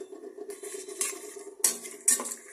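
Mixed dried fish, churi and loitta shutki, fry in oil in a pan, with a soft sizzle under repeated metal utensil clinks and scrapes as it is stirred.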